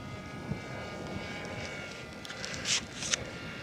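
A small beginner-flown airplane cruising at half throttle, a faint, steady engine drone heard from a distance with a few brief rustling bumps near the end and no speech.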